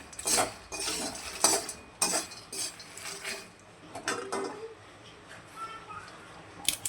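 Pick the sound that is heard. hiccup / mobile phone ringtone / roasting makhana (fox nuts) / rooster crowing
roasting makhana (fox nuts)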